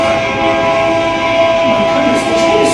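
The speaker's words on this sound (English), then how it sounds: "my goodness, the train is stopping." The Orient Express train slows to a stop in a stage play: a loud, steady rail rumble with sustained whistle-like tones runs throughout, with a few brief hissing bursts near the end.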